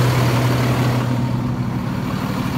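A Cummins diesel in an International 4300 flatbed truck idles with the hood open, giving a steady, loud, low rumble close by, alone without talking.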